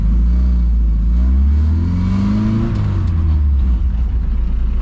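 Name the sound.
Saab 96 car engine driving on road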